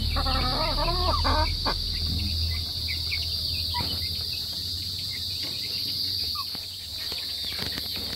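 Chickens cluck briefly in the countryside, then fall quiet, while steady crickets chirp throughout the calm outdoor scene.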